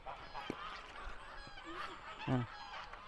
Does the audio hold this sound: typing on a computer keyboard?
no